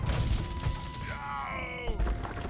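A siege cannon is destroyed in the game Age of Empires II, heard as a low booming crash and groaning collapse mixed with other battle effects over a couple of seconds, with a voice speaking underneath.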